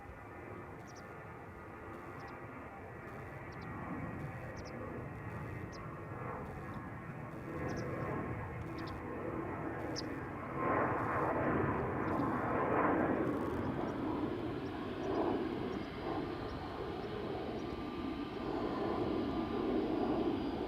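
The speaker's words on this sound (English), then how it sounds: "Vueling in the meantime, taking off from center" A Vueling jet takes off from Amsterdam Schiphol bound for Barcelona, its broad engine roar swelling steadily and holding loud and near through the end, with faint periodic clicks near the start.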